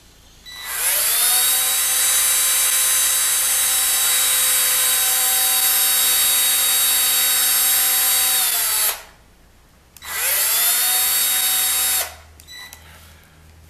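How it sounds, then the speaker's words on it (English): A power drill bores a pilot hole in wood for an organ conductor, whining loudly for about eight seconds, pausing briefly, then running again for two seconds before stopping. "Drill a pilot hole."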